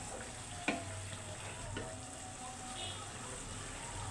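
Pointed gourd cooking with half a spoon of cumin powder in a frying pan, a steady low sizzle with a few spoon scrapes and knocks against the pan, close and continuous.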